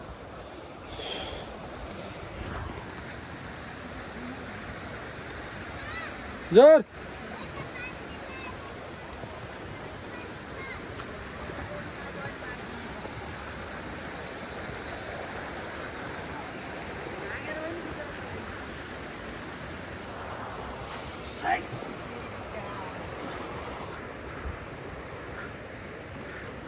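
Steady broadband rush of the Nikas river stream in Surkhet flows throughout, with a brief sharp knock near the start and voices talking briefly over the water.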